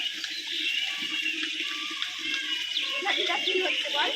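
Water is poured over the body while bathing at Digha, a continuous splashing and pouring rush, close and fairly loud, with a voice faint underneath.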